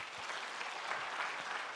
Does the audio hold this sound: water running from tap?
no